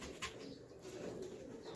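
A hen pigeon from a Teddy and quail cross line gives soft, low cooing that blends into a steady murmuring hum, close by and brief.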